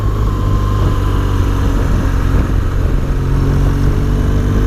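A BMW R1200GS motorcycle engine drones loudly and steadily while riding on a windy upland road in Wales, with a constant rumble and rushing air throughout and no pauses.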